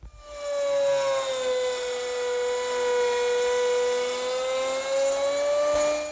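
A router fitted with a quarter inch round nose bit cuts a straight slot in wood for a slant top writing desk, giving a steady, loud, high whine that holds for several seconds with no talking.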